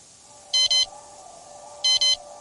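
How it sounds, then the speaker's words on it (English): A phone motion alert sounding as two pairs of quick, bright electronic beeps about a second and a half apart, over a faint steady hum. "Suddenly my phone starts to beep."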